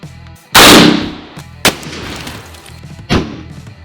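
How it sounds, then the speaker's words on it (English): A WW2 rifle fired at a cinder block wall: one loud, close gunshot with a long ringing decay, followed by two sharper, quieter impact cracks. "But let's give this cinder block one more shot."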